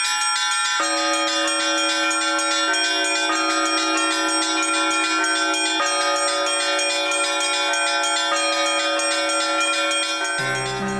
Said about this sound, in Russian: у нас совершается колокольный звон